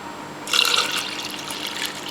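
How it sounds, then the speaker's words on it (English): Milk is poured into a container of starter yogurt for homemade fermented yogurt, a close, steady liquid pour starting after a short pause and continuing to the end. "I usually pour the milk into the container of starter yogurt"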